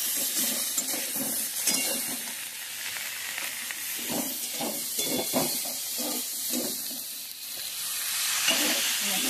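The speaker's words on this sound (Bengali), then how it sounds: "আস্তে আস্তে সুন্দর করে নেড়ে দিতে হবে।" Fried potato and pointed gourd are stirred with ginger and cumin paste in a hot pan, giving a steady hissing sizzle and soft rhythmic scraping from a utensil, close and continuous, with no talking.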